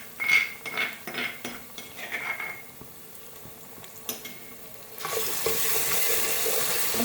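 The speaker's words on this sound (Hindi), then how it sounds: "प्याज जिंजर गार्लिक पेस्ट हमारा ब्राउन हो चुका हुआ है। अब इसमें टमाटर की प्यूरी शामिल करेंगे।" Browned onion, ginger and garlic paste in a pan, with intermittent stirring clatter and soft sizzling that swells into a steady, louder hiss as tomato puree goes in partway through; no one talks.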